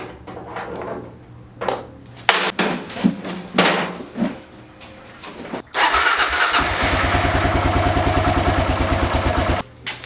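Kawasaki KLR650 dual-sport motorcycle after a doohickey install and oil refill: a few clanks and clicks, then the engine cranks and starts, settling into a loud, steady, thumping single-cylinder idle nearby before cutting off.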